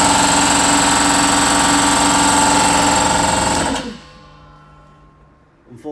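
Clarke industrial air compressor running inside an open DIY soundproof enclosure, a loud, dense mechanical rattle and hum close up that winds down after about four seconds, leaving faint residual noise.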